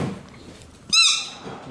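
A squeaky toy burger gives one loud, bright squeak lasting about a quarter second, standing out alone over a quiet background.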